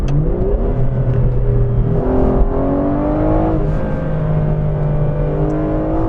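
Aston Martin Vanquish V12 engine revving while driving, a steady loud drone with rising and falling harmonics as the revs climb and ease, close and continuous with no talking.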